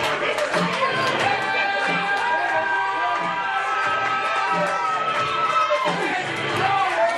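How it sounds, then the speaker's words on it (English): A wrestling crowd at the Nelson Club in Warwick, England cheers and chatters steadily as a former champion regains his title, with a commentator talking over the noise. "And this crowd of FFW faithful could not be more thrilled"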